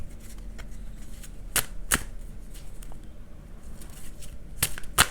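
A few sharp riffling snaps of tarot cards being shuffled, two quick bursts and then two more later, close by over a quiet room hiss.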